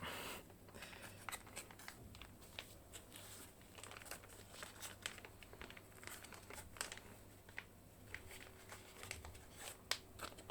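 Plastic packaging of a self-heating rice box with basil-fried rice being torn and crinkled by hand, a steady close rustle with scattered sharp crackles and rips throughout.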